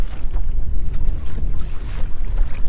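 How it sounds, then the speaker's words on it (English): Stiff, steady wind gusting across a kayak on a trout lake along the shoreline, a loud rumbling roar buffeting the microphone with no talk. "We are getting a pretty stiff wind right now."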